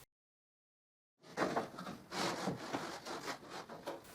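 A plywood board is slid and set down onto a wooden work table, giving a few seconds of dry scraping and rubbing of wood on wood after a brief silence, close and fairly quiet.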